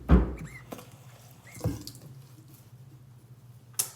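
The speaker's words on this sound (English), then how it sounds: "rinse with warm water" Running warm tap water in a sink as a facial cleansing brush is rinsed, with a brief splash and knock at the start, a steady trickle throughout and a faint clatter at the end.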